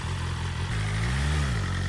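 BMW S1000 RR motorcycle engine on its first ride, a steady loud rumble with a brief rise and fall in pitch, heavy wind or road roar throughout.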